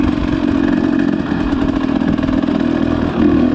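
A 2021 Husqvarna TE250i enduro motorcycle engine idles close by with a steady, loud, throbbing chug and light mechanical clatter.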